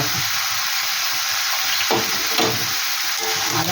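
Ginger paste sizzles in a hot pan with steady bright frying hiss, and a couple of brief stirring scrapes cut through midway, close and loud without talk.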